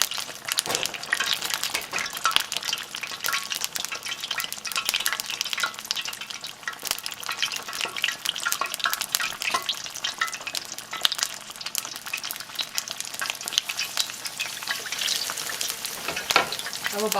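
Battered fish for tacos frying in hot oil, a steady loud crackling sizzle with bright spattering pops throughout, no talking.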